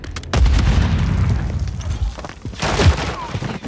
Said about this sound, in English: Stun grenade out! Grenade out!